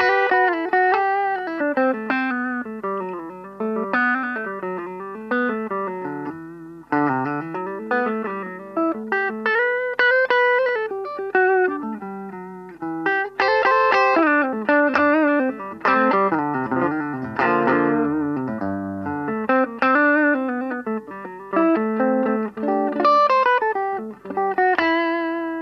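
Clean electric guitar switched to the bass (neck) pickup with no reverb, playing warm, rounded melodic phrases with slides and chordal passages, steady and close without any talking.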